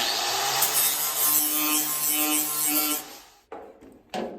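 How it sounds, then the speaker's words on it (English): A Tiger Paw flap disc on a grinder sands a part, with a loud, close, steady abrasive grinding that runs for about three seconds, then stops, followed by two short bursts. "So we're going to just attach the tiger paw flap disc,"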